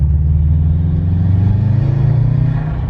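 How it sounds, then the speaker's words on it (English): A turbocharged car with a new aftermarket intake rumbles loudly and close, the engine note rising steadily as the turbo spools up over about three seconds, with no voices. "I love the sound of turbo spool."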